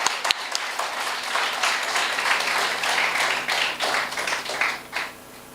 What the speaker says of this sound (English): let's give them a round of applause to the mentors